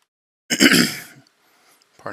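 A single harsh throat clearing, close and fairly loud, lasting about half a second, followed by quiet and a brief faint noise at the end.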